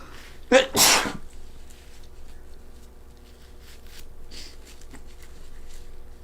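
One loud, sharp human sneeze bursts out near the start, followed by quiet shuffling and faint background sounds.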